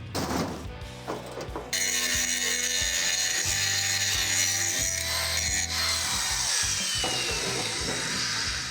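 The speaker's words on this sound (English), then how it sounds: "I'm going to cut out this rear support" A rear support is cut out of a 1969 Kaiser Jeep, with loud, steady tool noise: a close harsh rasping that starts after a brief quieter scrape and grinds on with repeated rhythmic strokes and no talking.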